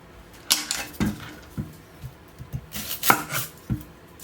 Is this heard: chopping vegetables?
yes